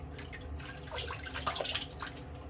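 Shaving lather is rinsed away under running water, a soft, steady trickle and splash with faint drips, fairly quiet and close, with no voices.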